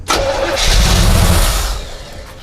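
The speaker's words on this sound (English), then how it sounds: "I can kind of show you what the motor does now versus just cranking over with the key" An old barn-find Chevy wagon engine cranks and catches, then roars loudly before settling into a steady running rumble.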